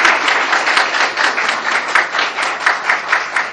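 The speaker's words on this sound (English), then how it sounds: "huge round of applause" Audience applause at a college course closing ceremony in Quetta, a dense steady clapping from a crowd that runs loud and unbroken from start to finish.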